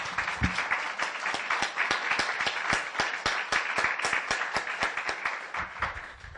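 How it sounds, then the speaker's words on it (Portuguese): A church congregation claps together at an anniversary service, a dense, steady patter of many hands sustained for several seconds. "Vamos dar uma salva de palmas para ele?"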